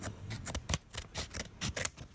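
Scissors snip through the packaging of a gift parcel, giving a rapid run of sharp, close cutting strokes in an uneven rhythm with a slight rustle between them.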